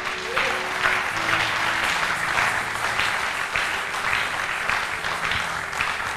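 A church congregation applauds during a worship service, a steady wash of clapping from many hands that keeps going throughout.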